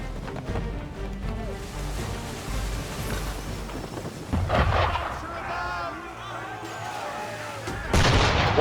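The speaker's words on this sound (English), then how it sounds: "Why is he shooting at us?" Cannon fire aimed at a ship in Assassin's Creed III, heavy booming blasts and rumbling impacts over a background of game music and ambience, ending in a louder burst of shots.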